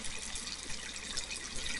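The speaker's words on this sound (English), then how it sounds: "so we're going to fill the water up to here" Water running from a tap into a pot to cook rice, a steady bright rushing hiss of filling liquid, even and uninterrupted with no talking.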